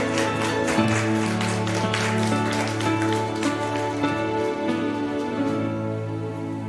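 Applause fills a church worship service, a dense, steady patter of many hands sustained throughout, mixed with held musical tones from the congregation's accompaniment.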